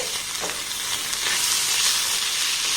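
A flour and potato snack fries in a pan with a little sauce, giving a dense continuous sizzle and hiss with soft stirring scrapes, close and steady throughout.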